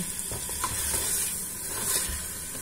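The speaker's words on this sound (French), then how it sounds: "je vais continuer à rissoler ma viande" Meat browning in a pan for a Moroccan dish with chopped parsley and coriander, a steady close sizzle with soft stirring scrapes, no voices.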